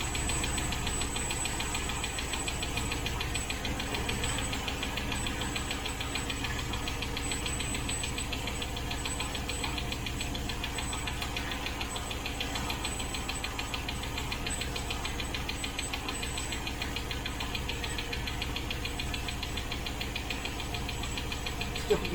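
A 1972 Range Rover A Suffix engine runs steadily throughout, a continuous close idle with a faint knocking rhythm and constant vibration, no voices over it.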